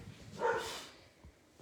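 Dogs at a grooming session let out a single brief bark, moderately distant and somewhat muffled, over a quiet room.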